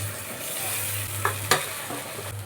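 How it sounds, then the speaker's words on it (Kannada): Mutton frying in a pan while being stirred, a soft steady sizzle with a low hum beneath and a couple of sharp scraping clinks from the spoon against the pan. "ಇಲ್ಲಿ ಫ್ರೈ ಆಗ್ತಿದ್ದೆ ಮಟನ್ನು ಸರ್ತಿ ಮಿಕ್ಸ್ ಮಾಡ್ಕೋಬೇಕು"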